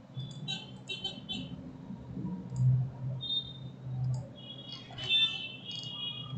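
Mouse clicks in CAD software while rebuilding a corridor surface, a few light, faint clicks scattered over a low background hum, with brief high ticks near the end.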